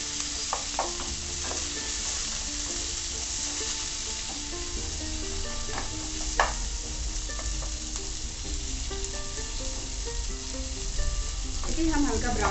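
Finely chopped onion and green chilli frying in hot oil with a pinch of asafoetida, a dense steady sizzle with occasional stirring clinks and scrapes, close and continuous.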